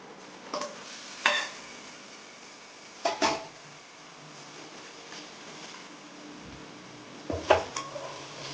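Half a kilo of washed mutton keema frying uncovered in a pan, with a soft steady sizzle and a few sharp scrapes and knocks as a spoon stirs it.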